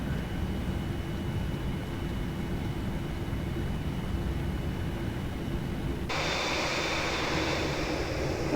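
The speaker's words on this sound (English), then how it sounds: "So we start slowing the plane down." Engine roar of a Boeing 787-9 slowing down after landing at the end of a long Perth to London flight in a flight simulator game. A dense, constant rush of noise turns brighter and louder partway through and holds to the end.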